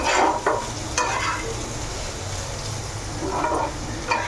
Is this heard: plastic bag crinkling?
no